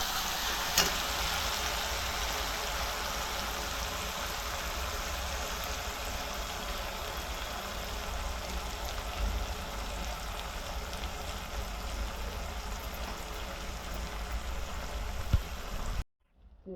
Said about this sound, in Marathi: हे सगळं परतून घेते.